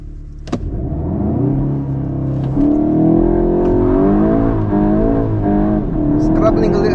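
A Mk8 Golf GTI launches hard from a standstill, its engine rising loud and close through the revs with a gear change partway, heard from inside the car with a voice briefly over it.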